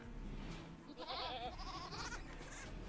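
Goat bleating from livestock in the RimWorld video game, a few wavering bleats close together over a steady low game background, no talk.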